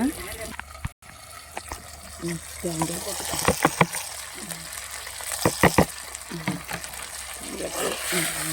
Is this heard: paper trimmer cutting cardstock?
no